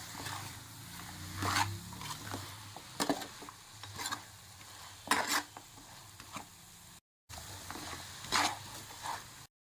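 Chicken stirred in a pan with chicken masala and biryani masala for a country-chicken dum biryani, light sizzling under intermittent scrapes and clinks of a spoon against the pan, with a brief gap of silence near the end.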